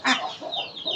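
A hen clucks close by on a farm with goats and poultry, giving a quick series of short, throaty calls over about a second.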